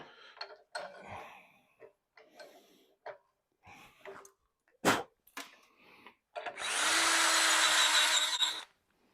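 A handheld drill spins up for about two seconds near the end, a loud continuous whir that follows scattered knocks and handling clatter in a quiet shop.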